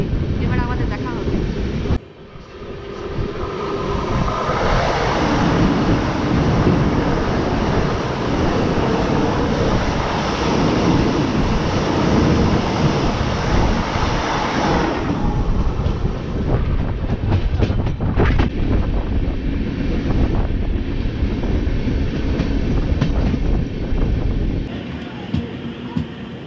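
Express train running at speed, heard from inside a sleeper-class coach on a Bikaner–Howrah superfast service: a steady, loud rolling rumble with rail clatter throughout, the tone shifting partway through.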